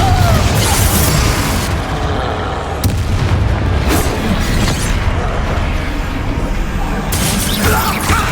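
Confringo blasting spell in the video game Hogwarts Legacy, heard as a series of booming, crackling blasts over a dense, continuous layer of game action, with several sharp bursts standing out.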